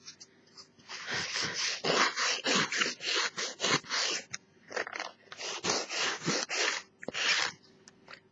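A fingernail is filed with quick, rhythmic rasping strokes, heard close and alone in bursts with short pauses between them.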